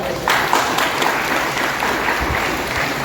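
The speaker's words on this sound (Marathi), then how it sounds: "सर्वांनी एकदा परत एकदा जोरदार टाळ्या" Dense applause from a large crowd at a political party rally rolls on steadily for the whole stretch, loud and close, with no clear voices above it.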